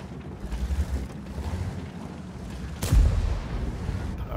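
In World of Tanks, an AMX M4 54 tank cannon fires a single sharp boom about three seconds in, rising out of a low rumbling game background.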